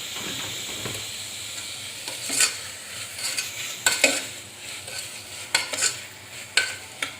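Chopped tomatoes sautéing in a pan for Kilakarai-style mutton gravy, a steady sizzle broken by repeated scraping stirs of a spoon, close and fairly loud with no talk.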